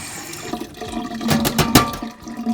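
Water splashes and gushes over a TuffMesh Emberguard gutter guard, a close, uneven rush with brief surges and spatters, no voices.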